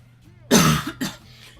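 A person with a lingering cough lets out two harsh, close coughs in quick succession, the first longer and raspier, after a brief quiet lead-in with a faint voice in the background.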